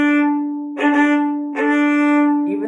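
Bowed string notes played right at the frog in a down, down, up, down, down pattern, giving several firm separate strokes on one pitch, close and loud, with no talking.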